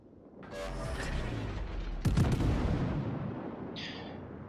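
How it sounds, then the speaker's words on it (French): Battleship Myogi in World of Warships firing a gun salvo, a deep rumbling boom followed by a sharper second blast, with a faint rattle afterward and no talk. "là je tire sur le Shenyang que j'ai encadré. Vous voyez, la salve était bonne"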